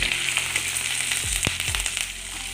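Green chillies sputter in a hot pan, a dense close sizzle with a few sharp crackling pops partway through, no one talking.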